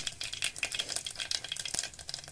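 Mustard seeds, cumin and a pinch of asafoetida crackle and sizzle in hot oil during Indian home cooking, a busy, continuous frying hiss with scattered sharp pops, close and steady with no talking.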